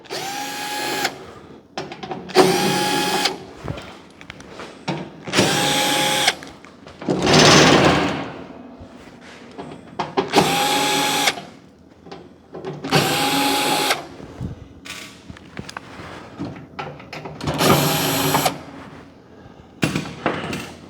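A power drill backs out seven screws holding the lower tray over the auger of an RT-380 machine, running in repeated short whirring bursts separated by brief pauses and small clicks, loud and close.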